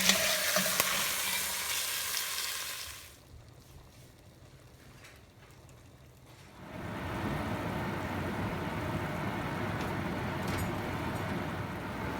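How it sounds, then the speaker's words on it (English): Braised pork and eggs simmering in sauce in a pot, a soft steady bubbling sizzle that drops to a faint murmur for a few seconds before returning fuller, quiet and close, with no talk. "We're going to simmer this for 1 hour or until tender."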